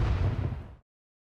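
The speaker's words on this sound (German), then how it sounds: "Irgendwas ist hier explodiert." A single explosion goes off in a video game, a loud, dense, full-bodied blast that holds for under a second and then cuts off abruptly into silence.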